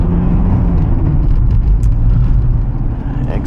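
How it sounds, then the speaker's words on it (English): A right-hand-drive Mitsubishi Delica L300 van pulls away, its engine a steady loud low rumble and road noise heard from inside the cabin as someone talks. "And we're off in the little van that could."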